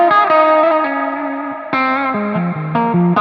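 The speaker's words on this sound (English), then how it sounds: "this is like a nice lush modulated reverb" Lush modulated reverb from the Mod Club preset on a Source Audio Ventris pedal in stereo, washing over a sustained, distorted guitar chord sequence that changes in several steps, loud and alone.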